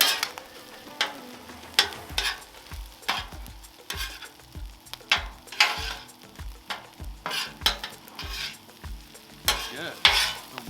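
Pulled pork fried rice with soy sauce is stirred and scraped on a 36-inch Blackstone griddle, a steady sizzle broken by regular metallic spatula scrapes in a brisk, repeating rhythm, close and alone.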